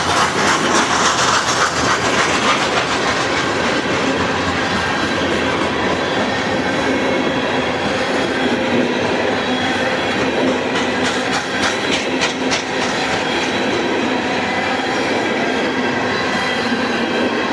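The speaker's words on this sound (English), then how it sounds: "It's a pretty long coal train." A long coal train rolls past steadily in Kentucky, its wheels clacking and rumbling continuously with occasional metallic squeals, close and loud throughout.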